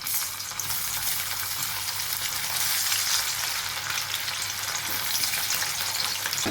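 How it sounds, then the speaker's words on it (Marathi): Raw banana pieces frying in hot oil, a steady close sizzle with bubbling crackle and a low constant hum underneath, no voices. "तेल तापले, त्यामध्ये आपण केळं कापून घेतले ते सोडूया."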